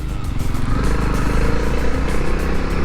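A Honda CRF300L motorcycle cruising on a highway at about 100 to 110 km/h, its engine drone and road roar steady, loud and continuous throughout without speech.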